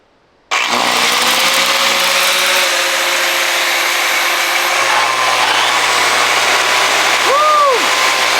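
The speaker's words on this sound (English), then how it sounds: "This is a 120 volt angle grinder." A 120 volt angle grinder and a circular saw run together off an off-grid cabin's BLUETTI AC500 battery power station. They burst in loud after a brief silence, then hold a steady, harsh whine with a short rising-and-falling tone near the end.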